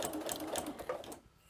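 A sewing machine runs a straight line of stitching on a rag quilt, a steady fast mechanical whir and patter close up, easing off and stopping near the end.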